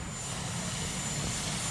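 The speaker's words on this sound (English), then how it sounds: "helicopter." A helicopter carrying a departing former president and first lady away from the Capitol after an inauguration, heard as a steady distant engine and rotor rumble with a faint high whine above it.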